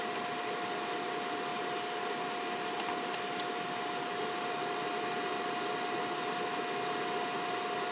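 A pure sine wave inverter rated 60V/1600W, fed from a battery, keeps its cooling fan running after the load is switched off: a steady, faint whirring hiss with a constant tone and a few brief clicks, no voices.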